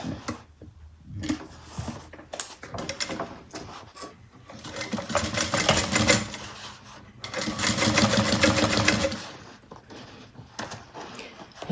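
A sewing machine stitches a bag seam at 3/8 seam allowance, running in several bursts of rapid stitching that grow longer and louder, with short pauses and handling noises between them.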